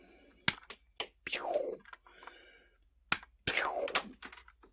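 Cutters snipping plastic model car rollbar parts, producing a few sharp, close clicks spaced a second or two apart, with quieter handling rustles between them.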